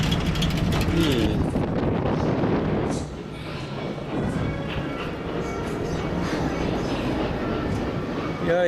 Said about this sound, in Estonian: Ja järgmine rong sõidab seal näiteks.